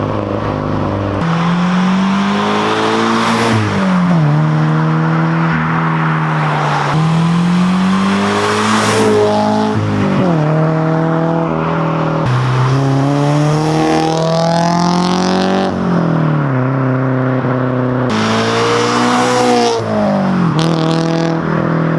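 A loud Subaru BRZ exhaust revving hard over and over, its pitch climbing and dropping in repeated surges every few seconds, close by.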